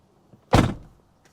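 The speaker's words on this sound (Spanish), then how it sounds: "Vamos a ver qué tal suena la puerta cuando el cristal está completamente bajado." A Tesla Model 3 (2021, American-built) car door shuts with its window fully lowered, giving one close, loud thunk followed by a brief rattling decay from the glass inside the door.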